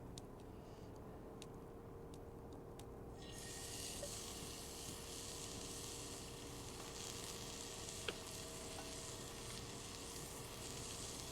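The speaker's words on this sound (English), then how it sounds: "And then we're just gonna sear it for maybe 2 minutes." Food sears in a smoking-hot pan at a campsite, giving a continuous, even sizzle that grows slightly louder a few seconds in, with a faint tick near the end and no talking.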